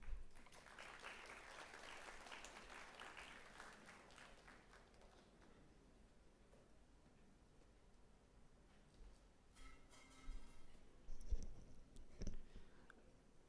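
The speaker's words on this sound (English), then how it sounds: "with a huge round of applause" Applause greets a speaker at a memorial lecture, a fairly faint burst of clapping that swells early, then thins out into scattered claps and small clicks and rustles in the hall.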